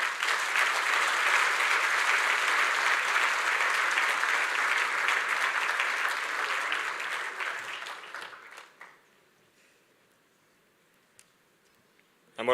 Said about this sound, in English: A round of applause for Waziri Moses Kuria